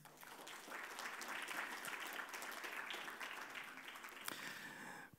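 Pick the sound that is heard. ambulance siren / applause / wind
applause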